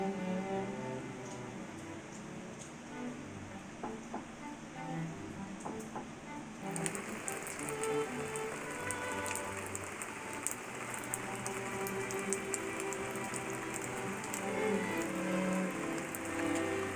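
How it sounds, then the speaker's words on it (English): Steady rain pattering on a surface, a continuous soft hiss with scattered drops tapping, growing a little brighter and denser partway through. "Do you wish it wasn't raining?"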